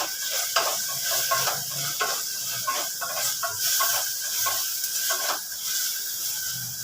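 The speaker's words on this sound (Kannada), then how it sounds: "ಅದಕ್ಕೆ ಇವಾಗ ಟೊಮೊಟೊ ಫ್ರೈ ಆಗಲಿ." Tomatoes fry in a pan for a fenugreek-leaf and ridge-gourd sambar, giving a steady close sizzling hiss broken by repeated scraping stirs, with no voices.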